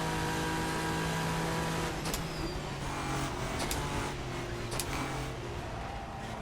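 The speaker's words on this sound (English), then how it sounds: "Rev it a bit higher than that, I need to get used to revving it higher." A race car engine revs continuously in rFactor 2 during practice at Suzuka, a loud, steady in-car drone with a few sharp shifts and changes in pitch.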